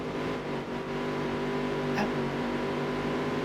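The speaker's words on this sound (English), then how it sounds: "We have an engine malfunction in the middle of the race." A race car engine in the NASCAR Dirt to Daytona game runs rough with a malfunction, a steady droning hum with uneven tone, continuous and close, with no talking.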